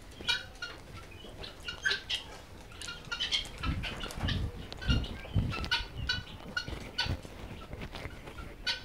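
Tithi chickens on a poultry farm in Bakshiganj, Jamalpur, clucking and calling in an overlapping flock, with several louder squawks standing out close by against a busy background of bird noise.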